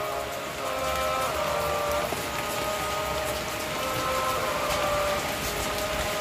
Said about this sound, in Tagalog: Malakas ng hangin dito at may kasamang ulan.